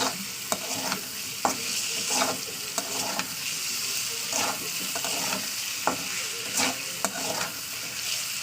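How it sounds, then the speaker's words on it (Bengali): Spices being stirred and fried in oil over a high gas flame, a steady sizzle broken by repeated scrapes of the spoon against the pan at an irregular rhythm, close and alone with no voice. "এই তেলের সঙ্গে কষে নিতে হবে খুব বেশিক্ষণ নয় ওই এক থেকে দু মিনিট গ্যাসটাকে জোরে দিয়েছি"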